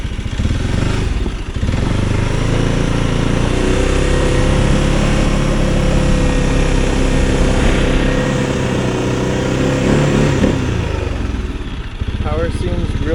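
Arctic Cat Alterra 600 ATV engine running steadily in low gear with four-wheel drive during a ride, a loud continuous drone with rising and falling revs, with a rider's voice faintly audible over it.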